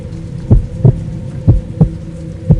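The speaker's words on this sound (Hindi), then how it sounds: "उसका दिल धड़कने लगा।" A slow, deep heartbeat effect thumps in regular paired beats, loud and low over a faint hum, with no voices.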